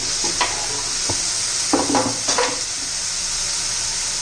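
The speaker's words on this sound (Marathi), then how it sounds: "ती पण चांगली मस्त अशी परतून घ्यायची टोमॅटो बरोबर" Tomatoes and spring onion greens are sautéed in a pan, with a constant close sizzle. A spoon knocks and scrapes through the mix in a few short bursts. No voices are heard.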